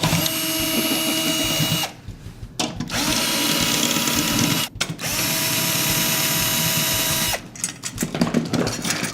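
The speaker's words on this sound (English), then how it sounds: "We're going to use the Evans drill bit key." A power drill fitted with an Evans drill bit key loosens the tension rods on a snare drum head, whirring steadily and loudly up close in three long runs separated by short pauses.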